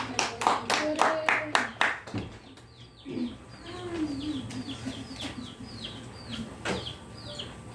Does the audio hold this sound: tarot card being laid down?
no